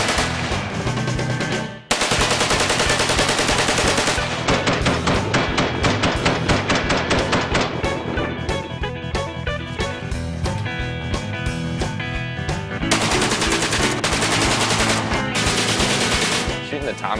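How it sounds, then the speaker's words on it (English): Tommy guns firing at a shooting session with many rifles and automatic guns, long loud bursts of rapid automatic fire, close and continuous with a brief pause early on, a voice faintly present beneath. "Shooting the Tommy guns were pretty cool."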